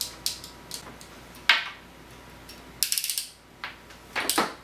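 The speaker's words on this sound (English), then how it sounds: "And simply crimp." A crimping tool presses a terminal onto a stripped wire while wiring a laser controller to a power supply, giving a few quiet, separate mechanical clicks and short ratcheting bursts over a near-silent background.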